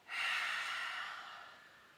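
A single long exhale through the nose and mouth during a Kundalini breathing practice, soft and close, rising quickly and then trailing off slowly, alone in a quiet room.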